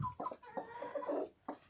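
A broody hen sitting on black Cochin eggs gives a few soft, low clucks and short throaty grumbles in a quiet indoor space, close but faint, with brief pauses between calls.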